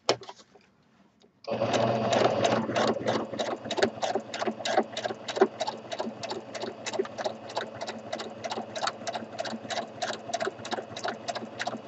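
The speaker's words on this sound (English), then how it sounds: "just a few extra stitches done right in place so it sort of ties my thread" A sewing machine does free motion stitching around a fabric applique, running in a fast, even, rapid rhythm of close, clear needle strikes after a brief quiet start, with no talking.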